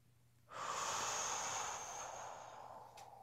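A single long exhale during a Pilates stretch, a soft close breath out that starts abruptly and slowly fades over a few seconds, with no talking.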